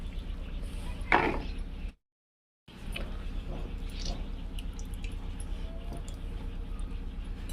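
Soaked soybean chunks are washed in water, giving wet sloshing, dripping and squeezing sounds with a gap of silence partway through, close and fairly quiet.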